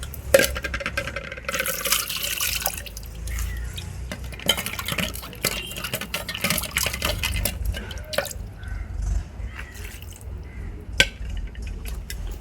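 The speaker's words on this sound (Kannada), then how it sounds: "ಕೊಡು, ಸ್ವಲ್ಪ ನೀರು ಹಾಕ್ತೀನಿ." Water is poured into a vessel at home, splashing and gurgling close by with irregular drips and faint clinks against the container.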